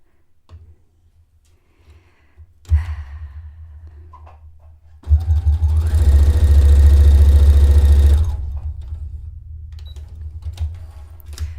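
A sewing machine stitches a dress, short whirring starts and then a sustained run of a few seconds with a rising motor hum, close and loud before stopping.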